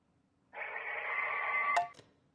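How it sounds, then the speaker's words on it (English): Muffled, warbling ring of a telephone submerged underwater as a video game sound effect, a steady buzzing tone lasting over a second and ending in two quick clicks, heard alone. "That was a phone ringing underwater."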